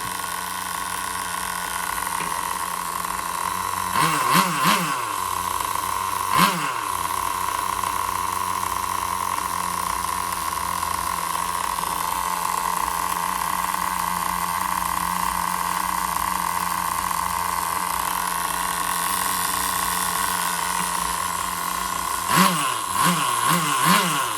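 A small nitro engine in a Duratrax Overdrive ST RC car, running slightly lean, idles steadily with a high buzzing drone, with a few brief blips in pitch scattered throughout.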